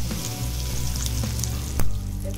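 Hot tempering poured over cooked vegetables sizzles and fries loudly and continuously at close range, with a brief louder burst near the end and no talk.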